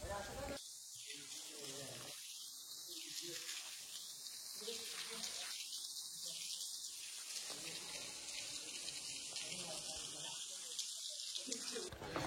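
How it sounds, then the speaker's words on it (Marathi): Water trickles and splashes steadily outdoors at a spring, a constant close hiss with several louder gushing bursts in the first half. "थोडंसंच पाणी पडतंय, एवढं ऊन आहे तरी पण इकडे पाणी काही कमी नाही।"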